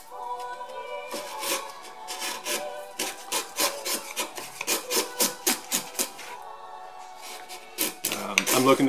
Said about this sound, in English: I'm scribing deeper and deeper with my knife